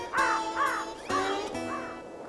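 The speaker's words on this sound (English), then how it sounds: "and the crow." A crow caws four times in a loose, uneven rhythm, fairly near and clear against a quiet background.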